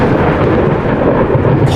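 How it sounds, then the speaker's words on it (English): Loud, continuous thunder rumble fills the whole stretch, a dense rolling roar during a tabletop roleplaying session set inside a derelict space hulk, with faint crackle near the end. "shattering the noise louder than everything else is a sound of essentially thunder."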